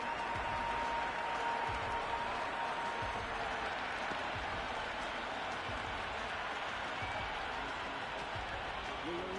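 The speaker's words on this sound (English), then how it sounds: "Listen to that crowd. They are loving this." A large cricket crowd in the video game Cricket 26 roars and cheers steadily throughout, a dense, continuous wall of noise with no clear breaks.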